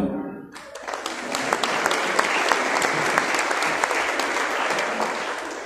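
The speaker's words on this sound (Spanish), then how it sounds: "al señor Carlos López, pido un fuerte aplauso." After a short quiet moment, a crowd at the presentation of the Feria del Limón queen candidates in Tecomán breaks into a strong burst of applause that quickly swells and stays full and steady, heard on its own.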